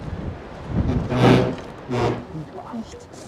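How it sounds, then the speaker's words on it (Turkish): Gusts of wind buffet the microphone in rumbling surges, rising and falling a couple of times, with voices faintly underneath. Strong wind at a castle in the Austrian Alps. "Rüzgarı felaket ya."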